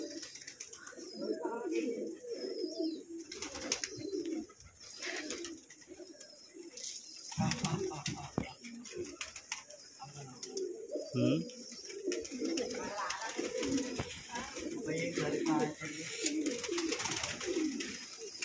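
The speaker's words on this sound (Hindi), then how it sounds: "ये देखिए कितने सारे कबूतर है" Many pigeons coo in soft, repeated throaty murmurs close by in a partitioned pigeon housing setup, with someone talking over them at times.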